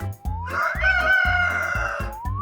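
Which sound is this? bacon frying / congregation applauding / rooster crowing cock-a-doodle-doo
rooster crowing cock-a-doodle-doo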